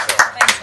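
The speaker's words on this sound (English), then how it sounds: "Applause for the 3 people in the room." A small studio audience claps briefly, a few loud nearby claps in quick succession lasting under a second.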